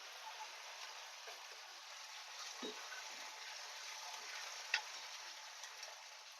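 Tempering spices frying in hot oil for a raw mango pulusu, a faint steady sizzle with light crackles and one small sharp pop, close by and quiet.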